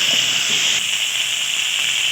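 Ridge gourd, long beans and okra fry in a pan for a village-style fish and summer vegetable curry, giving a steady, loud hiss and sizzle throughout, with faint clinks of stirring early on.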